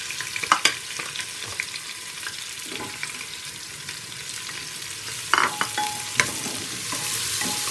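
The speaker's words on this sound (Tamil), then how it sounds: "இப்போ வெங்காயத்தை சேர்த்துக்கலாம்." Onions fry in hot oil in a pan for fish biryani, with a steady sizzle broken by several sharp spatula scrapes and clinks, close and alone without any talking.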